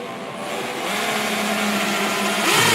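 A 2.5 millimeter drill bores into a plastic bumper for a parking sensor, a loud continuous high whirring that builds slightly over three seconds, no voices.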